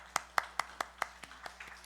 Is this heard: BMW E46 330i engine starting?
no